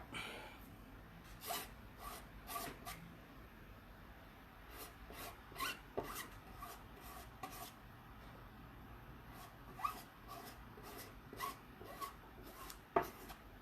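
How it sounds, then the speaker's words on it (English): A squeegee drags shimmer gold material across a silk screen transfer in repeated short rasping strokes, faint and close, with quiet gaps between passes. "Just lay a little bit of it down and use my squeegee to spread it out."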